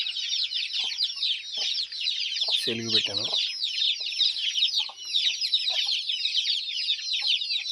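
Dense, continuous high cheeping and clucking from many chickens and chicks in a farm shed, close and steady throughout, while someone speaks briefly in the middle.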